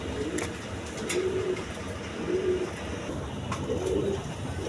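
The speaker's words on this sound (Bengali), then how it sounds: "দেখেন একবার দেখার মতো কবুতর, গররা টাইপের, রেড কালার গররা" Red Gorra pigeons coo in a loft, soft rolling coos recurring every second or so at moderate volume, with no one talking.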